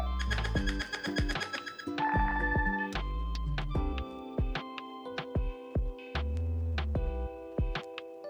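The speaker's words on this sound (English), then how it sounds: "Now you can hear different ringtones for different contacts." Several ringtones play one after another on a Nothing Phone, each a bright, melodic electronic tune of short tonal notes and chimes, changing every couple of seconds, close and clear with no talk.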